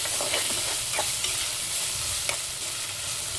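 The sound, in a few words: ginger garlic paste frying in pan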